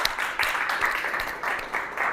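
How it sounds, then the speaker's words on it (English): Audience applause at a festival presentation, a dense wash of clapping that swells and dips in bursts, moderately loud with no voices on top. "So let's give them a big round of applause."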